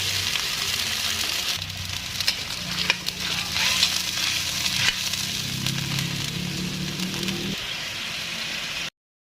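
Smoked fish (tinapa) frying in a pan, a steady close sizzle with crackles and occasional scraping or stirring, no talking, ending abruptly.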